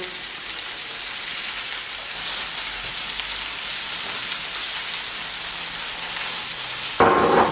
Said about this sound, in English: Now we will put our paprika and onion on the pan, just like this.